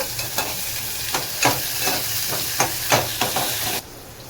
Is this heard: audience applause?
no